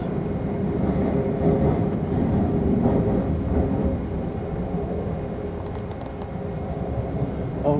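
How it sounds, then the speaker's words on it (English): A freight train passes alongside a moving passenger train approaching Cleveland, producing a loud, continuous rail rumble and clatter that holds steady for several seconds with no talking. "Oh look, a freight train."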